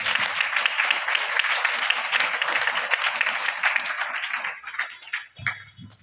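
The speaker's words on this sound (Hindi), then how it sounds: "एक बार जोरदार ताली अर्नब के लिए" Students and audience at a school motivational seminar give Arnab a loud round of applause, dense, steady clapping that thins out and breaks up toward the end.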